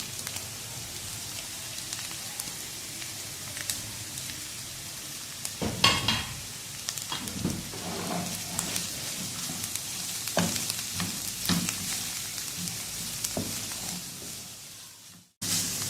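Capsicum, carrots and cabbage stir-fry in a hot pan for chicken bread filling, a steady close sizzle broken by scraping stirs and clattering tosses, with a brief cutoff near the end.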